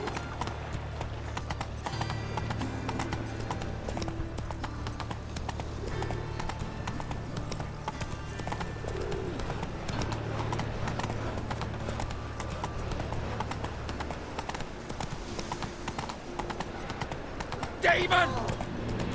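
Horse hooves clip-clopping at a steady trot in The Witcher 3, a continuous rhythmic beat over outdoor game ambience, with a brief voice and a short louder clatter near the end.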